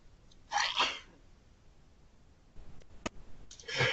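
A person sneezes sharply twice, a close burst at the start and another near the end, with a faint click between.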